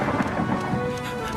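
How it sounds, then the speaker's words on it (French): Thunder from a storm, a deep continuous rumble layered with rain, loud and enveloping across the short stretch. "L'orage, enfin."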